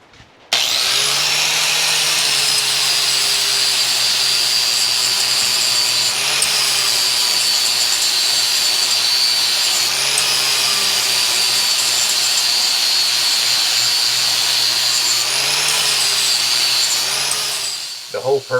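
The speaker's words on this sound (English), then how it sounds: "The whole purpose of this technique is to grind out the damaged portions of the blade." An angle grinder grinds the damaged edge of a lawnmower blade, a steady, loud high-pitched whine with a faint low hum beneath, running almost continuously for about seventeen seconds and dipping briefly a few times.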